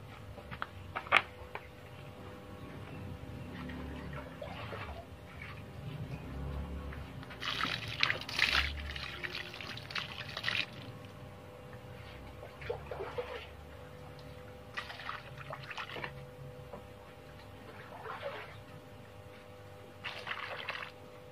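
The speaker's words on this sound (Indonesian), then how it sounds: "Sekarang kita siram." Water poured over a newly planted bonsai, its roots already submerged, makes soft trickling and splashing in irregular bursts, close and moderately quiet, with quieter stretches in between.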